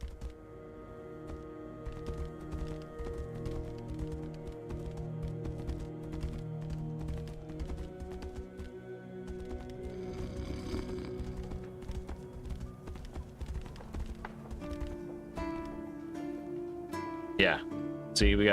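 Rhythmic horse hoofbeats clip-clop steadily beneath a busy soundtrack in the video game Tainted Grail: Fall of Avalon, with voices talking over them and a few sharper sounds near the end.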